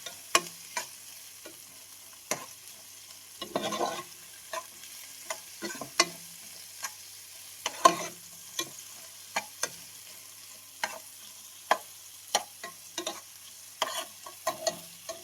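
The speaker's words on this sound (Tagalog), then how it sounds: "Haluin ta lang para mag-kulay brown siya ng konti." Garlic, onion and ginger being stirred in a frying pan before ground pork is added: sparse sharp clicks and scrapes of a spatula against the pan over a faint, quiet sizzle.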